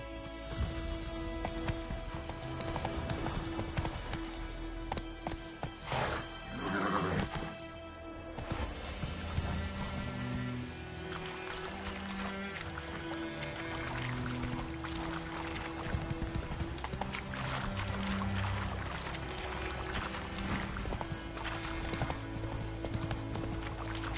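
Roach, Geralt's horse in The Witcher 3, gallops in a long run of rhythmic clip-clop hoofbeats under game music, with a brief splashing break partway through before the steady gallop resumes.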